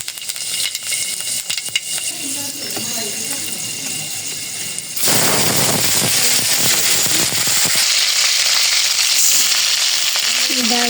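Panch phoron spices drop into hot oil in a wok, bursting into a loud, crackling sizzle about halfway through that holds steady to the end; a voice talks over quieter kitchen noise before the spices go in.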